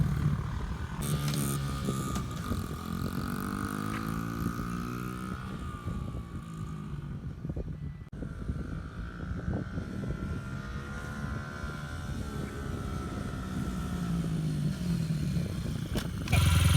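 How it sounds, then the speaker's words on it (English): A dirt bike engine revving and riding at some distance, a buzzing motor whose pitch rises and falls through repeated passes and accelerations over steady outdoor background noise, with no talking. "There's a dirt bike over there."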